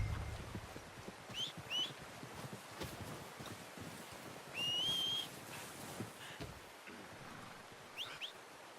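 Horse hooves clip-clop in Red Dead Redemption 2, faint and irregular beneath bird whistles and rustling outdoor ambience, with no talking.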